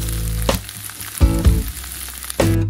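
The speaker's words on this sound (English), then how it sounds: "I'm just gonna saute a bunch of veggies with some lemon and basil and feta and rice." Vegetables sautéing in a pan with lemon, basil, feta and rice, giving a loud, close sizzle that swells in short bursts as the food is tossed or stirred.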